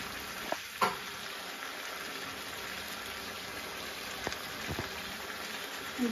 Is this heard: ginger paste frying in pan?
yes